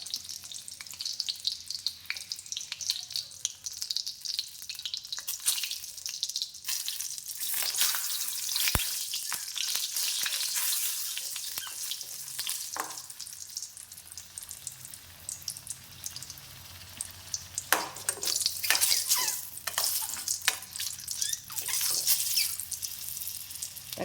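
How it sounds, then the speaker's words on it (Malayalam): Tomatoes fry in oil, bubbling and crackling at moderate volume, with bursts of louder sizzle and stirring scrapes in the second half. "തക്കാളി ഒന്ന് നല്ല നിറം മാറിക്കഴിഞ്ഞ് നമുക്കിത് എണ്ണയിൽ നിന്ന് എടുത്തേക്കാം"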